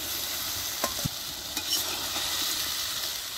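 A potato fries with spices in a pan alongside kochur loti, with a steady close sizzle broken by a few scraping stirs of the spoon, and no voices.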